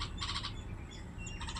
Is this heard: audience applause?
no